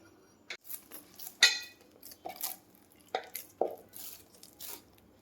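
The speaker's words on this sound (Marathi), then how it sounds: "आपण आता हे पीठ मळून घेऊ." Wheat flour and maida dough being kneaded by hand in a bowl, with scattered soft thumps, slaps and scraping knocks at an irregular pace, close and fairly quiet.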